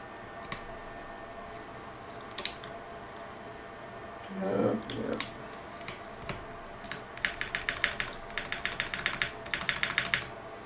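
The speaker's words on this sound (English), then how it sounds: "The sound of the keyboard?" Typing on a rebuilt GHS.JEM Azul prototype mechanical keyboard with hand-lubed switches: sparse isolated clacks at first, then a fast rhythmic run of crisp keystrokes toward the end, heard close over a low room hum.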